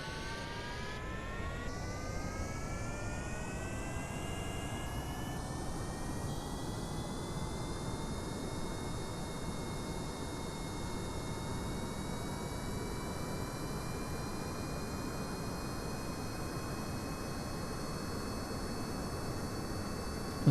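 A jet airliner taking off in Kerbal Space Program, a passenger supersonic transport: steady loud roar of engines with rising whining tones climbing in pitch over twenty seconds, continuous and alone.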